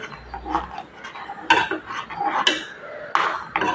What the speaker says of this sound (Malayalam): ഈ രീതിയിൽ കുറച്ച് സമയം ഇളക്കണം കേട്ടോ ഇതേ രീതിയിൽ